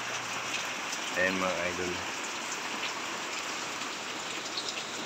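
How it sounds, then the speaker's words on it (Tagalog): Steady rain falls outdoors during a pet burial, a continuous hiss of drops pattering on surfaces throughout, with someone briefly speaking over it partway through. "Umuulan."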